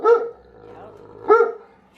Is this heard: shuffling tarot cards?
no